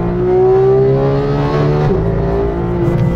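A Porsche 911 GT3 (991.1) engine revs loudly and continuously, its pitch climbing smoothly then dipping briefly at a gear change before rising again, close and alone.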